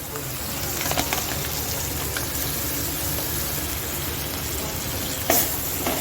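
Mustard and poppy seed paste fries in a pan with spiced katla fish curry, giving a steady, moderately loud sizzle with faint scraping from stirring throughout.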